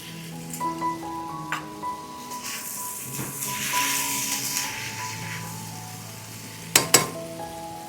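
Beef in black pepper sauce sizzles steadily in a hot stir-fry pan as the premade sauce goes in, a continuous close hiss with a couple of sharp utensil clatters near the end.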